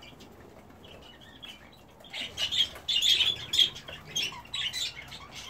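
Budgies and cockatiels in a breeding aviary chirping and squawking in overlapping bursts, fairly close, with a brief spoken phrase early on.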